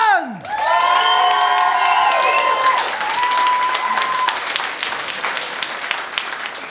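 An audience at a game-show style event bursts into applause and cheering, with whoops and high excited shouts over dense clapping that gradually thins toward the end.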